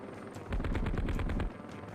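Gunfire bursts in a two-seat helicopter video game, a rapid loud volley of shots lasting about a second over a steady engine-like drone, with no talk.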